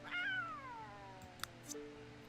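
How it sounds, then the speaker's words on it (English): A female cat meows in the Sims 3 Create-a-Pet game, one clear, slightly high-pitched meow that falls in pitch and trails off, with soft game background tones and a couple of faint clicks afterward. "I'm going to give her a slightly higher meow."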